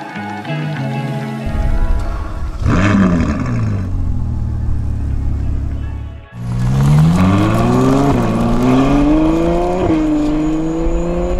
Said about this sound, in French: Et on est reparti au volant de la 812 Superfast les amis, le V12 Atmo, le moteur par excellence